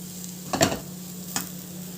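A spoon scrapes twice through jaggery and roasted coconut in a pan, a modak filling: two short, close scraping strokes over a quiet, steady background.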